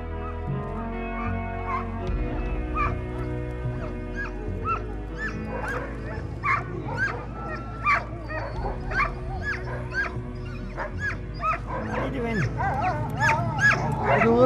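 A scared sled dog on the inland ice whimpers and gives short yelps and barks, first low and uneasy, then growing more agitated and frequent. People talk steadily over it, and there is a low rumbling background.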